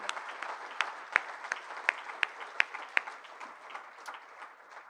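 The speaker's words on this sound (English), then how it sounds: "we need to give Mike David a tremendous round of applause for that" Audience at the Indiana Golf Hall of Fame 2021 event giving a round of applause, moderate and somewhat distant, with a few sharp individual claps standing out before it tapers off.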